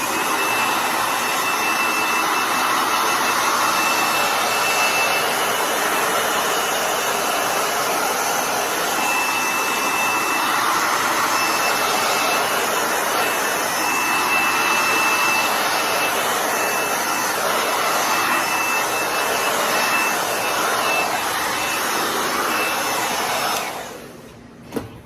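Hair dryer blowing on a freshly painted distressed frame, a loud, steady whooshing roar with a faint whine, running continuously for over twenty seconds before cutting off abruptly with a small click.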